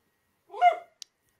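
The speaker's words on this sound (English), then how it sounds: "Oh, there's my dog." A dog gives a single short bark at moderate distance indoors, followed by a tiny click, with silence around it.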